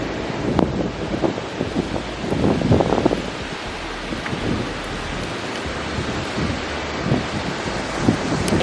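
Steady windy roar of ocean surf at a beach, broad and continuous with gusty wind buffeting the microphone, no voices.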